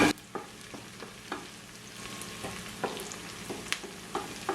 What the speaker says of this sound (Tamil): ஒரு மூன்று நிமிஷம் இதை பொரிய விடுவோம்